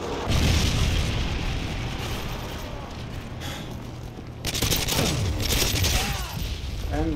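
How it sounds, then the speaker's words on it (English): A predator missile strike in Call of Duty MW3 lands as a roar of booming explosions and scattered gunfire, loud and sustained for several seconds, with a second swell of blasts near the end and faint voices under the din. "Friendly predator missile inbound."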